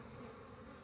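A honey bee buzzes right in front of a beekeeper's face, a steady, close, continuous drone.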